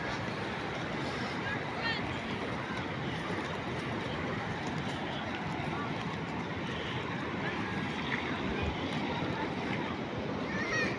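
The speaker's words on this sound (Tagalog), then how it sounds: "Oh, lalaki ng alon, no." Big waves roll onto a sandy beach with a broad, continuous roar of surf at full level, under the steady wash of breaking water and no clear voices.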